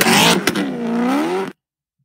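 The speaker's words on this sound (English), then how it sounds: "Look at this drift." A BMW drifts, its tires screeching loudly in a sustained wavering squeal for about a second and a half before cutting off abruptly into silence.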